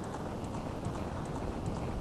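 Horse hooves gallop steadily in the Ocarina of Time video game, a continuous rapid clip-clop rhythm at moderate loudness, with no talk over it.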